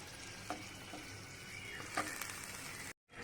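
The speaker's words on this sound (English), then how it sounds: "Now we wait for the ingredients to boil at least for 3 to 5 minutes" Masala ingredients for Kerala egg roast simmer in a pan with a soft, continuous bubbling sizzle, a few faint pops rising above it, before a sudden brief cutoff near the end.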